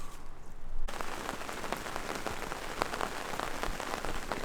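Heavy rain at an Oregon coast campsite drums steadily on a nearby surface, probably a canopy. It begins abruptly after a quieter opening and continues as a dense, even patter with scattered louder drops.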